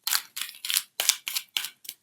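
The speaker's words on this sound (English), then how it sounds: "So I'm shuffling the cards." Tarot cards shuffled by hand in quick crisp riffling bursts, about seven short rustling flutters in a steady rhythm, close and fairly quiet with no talk.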